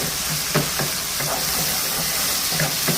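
Eggplant sautéing in oil in a pan for kathirikai thokku, a close, steady sizzle with several short scraping stir strokes over three seconds.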